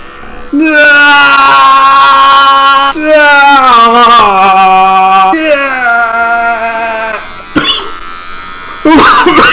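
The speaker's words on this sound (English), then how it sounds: "before we begin, I'm going to shave my head." An electric razor buzzes loudly and close while shaving a head, a strong humming drone that shifts pitch as it moves across the scalp, with brief breaks near the end.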